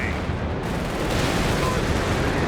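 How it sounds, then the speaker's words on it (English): Carpet bombing in Company of Heroes 3, a 2v2 match, producing a dense, continuous roar of heavy explosions and battlefield rumble that stays loud and steady throughout. "Carpet bombing coming in now."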